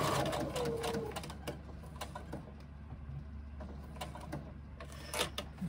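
A sewing machine stitching down the side of a pocket, running steadily and close at a moderate level with faint mechanical clatter and no voices.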